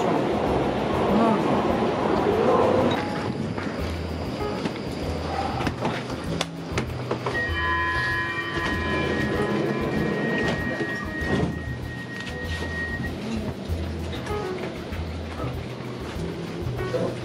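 A Stockholm metro train rumbles and rattles along continuously, with steady low roar, brief squeals and tonal whines from the carriage as it rides.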